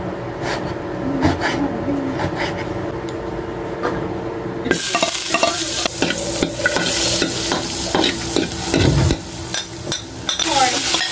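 Rice being stir-fried in a pan to make fried rice, with close clattering spatula strokes and scraping over a sizzle that grows louder partway through, plus some clinks and faint voices.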